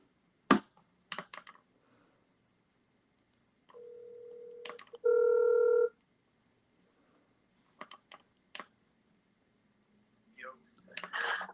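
A phone call is placed, with a few taps and clicks, then a steady tone followed by a louder, richer ringback-style tone lasting a couple of seconds, more taps, and soft talk at the end.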